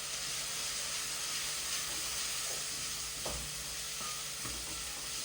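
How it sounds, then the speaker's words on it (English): Paprika beef stew with onions stirred in a pot, giving a continuous loud hiss and sizzle with a few scattered knocks and scrapes from the spoon; no one speaks. "Give that a good stir."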